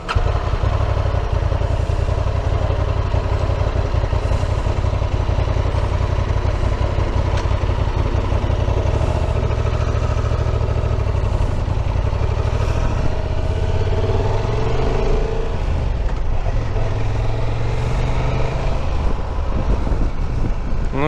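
A Honda Transalp XL750 adventure motorcycle is being ridden, its engine droning steadily up close with a few shifts in pitch, heavily buffeted by loud wind noise throughout and without any speech.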